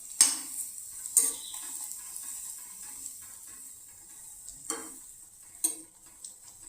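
Bread slices frying and toasting on a dosa tawa, a soft hiss punctuated by a handful of sharp utensil taps and scrapes against the pan, quiet and close with no speech.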